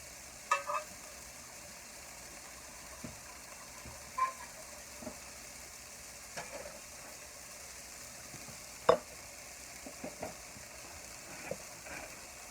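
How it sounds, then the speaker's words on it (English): A pan keeps up a quiet, steady sizzle while boiling water is poured in during home cooking of a meal-kit dish, with faint stirring scrapes and soft clinks at scattered moments. "I'm going to add another half a cup of the boiling water"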